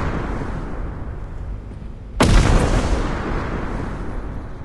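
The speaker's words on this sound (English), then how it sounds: "Grenade is in here." A grenade blast in a cooperative first-person video game bursts in suddenly about two seconds in, loud and broadband, then a rumbling tail decays over a steady background of ambient game noise.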